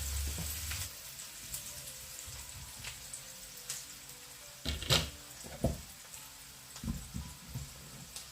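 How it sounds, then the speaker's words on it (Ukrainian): Onion frying quickly in hot rendered pork fat, a soft steady sizzle with occasional louder spits and stirring clatters, close but fairly quiet, no voices. "Вона в розігріте, розкалене таке сало, тому вона буде смажитися дуже швидко."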